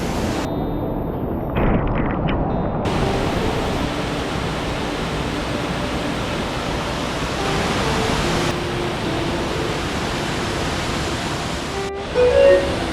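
A rushing waterfall at Glen Leigh in Ricketts Glen State Park, running at unusually high seasonal flow, gives a loud, constant broadband roar that fills the whole clip with only slight shifts in level.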